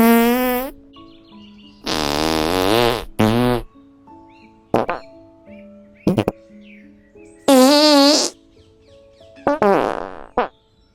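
Cartoonish fart sound effects burst out one after another in a comic run, some long and wobbling, others short and squeaky, loud and close with gaps of silence between them.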